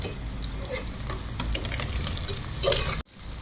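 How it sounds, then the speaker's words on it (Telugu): Onion, green chili and dry fish fry in a pan for a gongura curry, giving a steady close sizzle with stirring scrapes throughout, then a brief sharp drop near the end before the sizzle resumes. "ఇప్పుడు ఉల్లిపాయ పచ్చిమిరపకాయ సగం వేగిన తర్వాత మెత్తళ్ళు వేసుకుందాం."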